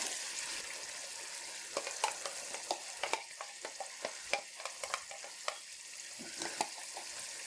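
Coriander, mint, almond and cashew paste frying in chicken karahi, a faint steady sizzle broken by frequent sharp scrapes and taps of a spoon stirring in the pan.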